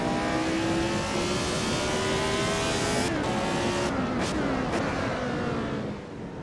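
A Lotus 72 race car in the video game Assetto Corsa revs hard and winds out fully, its high engine note climbing steadily, broken by sharp upshifts near the end, loud and continuous with no talking.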